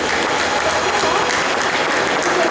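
A cosplay awards ceremony audience at a convention applauds the regional cosplay winner, steady dense clapping filling the room at full strength throughout.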